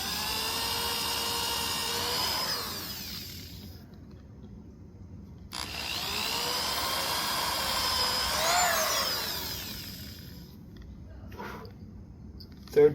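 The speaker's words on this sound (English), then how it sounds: "Don't need to drill these super far." Power drill boring short pilot holes into a couch frame, two sustained whining bursts with rising and falling pitch separated by brief pauses, close and loud, ending with a faint click.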